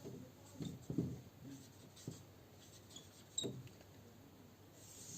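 A pen scratches across paper in short, quiet bursts, noting an accounting journal format for a commerce lesson, with brief pauses between the strokes and no talking.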